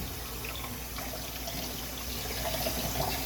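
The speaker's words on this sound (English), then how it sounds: "This stage is just lots of rinsing." Running water rinses bleach out of a phytoplankton culture container, a steady close splashing and pouring wash that continues without a break and swells slightly toward the end.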